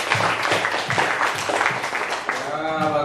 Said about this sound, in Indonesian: Beri tepuk tangan dulu temannya.